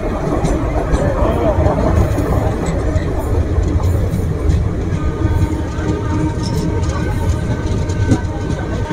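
A Kolkata–Digha special passenger train (03161) runs along the rails with a steady, loud rumble and a faint clickety-clack heard from inside, with passenger chatter mixed in.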